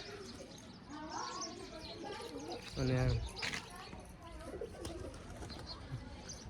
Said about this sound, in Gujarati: જોઈ લ્યો તમે આપણા કબૂતર